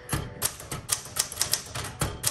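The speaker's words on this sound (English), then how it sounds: "let's go ahead and start typing" Keys striking on a 1967 Smith Corona Super Sterling manual typewriter, a brisk irregular run of about a dozen sharp clacks, close and clear with no talking.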